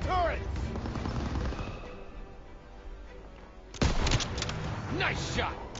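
Gunfire aimed at turrets in the Call of Duty: WW2 campaign mission Stronghold, with rolling bursts of shots and booming impacts, loud and close, under raised voices from game characters.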